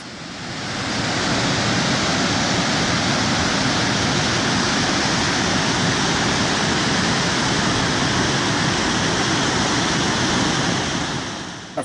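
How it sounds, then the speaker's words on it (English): Waterfall in Gallatin National Forest, Montana: a dense, steady roar of falling water, loud and close, unbroken from start to finish with no voices. "This first waterfall is from Gallatin National Forest, and the second one is Gallatin-Custer National Forest"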